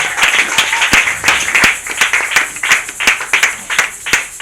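A church congregation at an Easter-week service claps in a steady, fast rhythm, loud and close, the sharp repeated claps blending into continuous applause with no speech over it.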